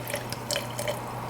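Sparkling water poured into a rose sangria with strawberry simple syrup, a faint, steady fizzing and trickling with brief splashy bursts throughout, no talking.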